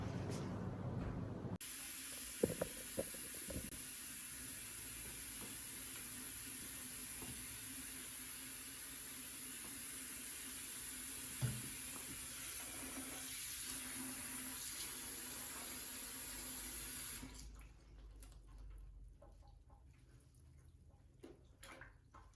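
Tap water runs steadily into a laundry tub, filling it to soak items: a constant splashing hiss for most of the stretch, then it stops, leaving faint drips and small handling sounds. No one speaks.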